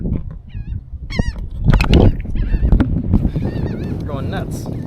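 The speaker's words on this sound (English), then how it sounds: "look at all these seagulls." Seagulls calling over a lake in strong wind, a busy chorus of loud, close, wavering squawks and cries that overlap one another, with rough wind noise underneath.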